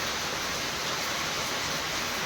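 Heavy rain pouring down all day in a rural setting, a dense, continuous hiss that is loud and constant from start to finish.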